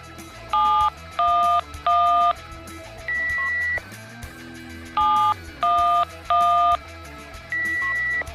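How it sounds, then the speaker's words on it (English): Bursts of DTMF keypad tones dial repeater addresses over a telephone line, in two groups of three short chords, each group followed by a longer steady confirmation tone. The tones are clear and loud, with no talking. "Each time you dial a new address, you wait to hear the tone before entering the next number."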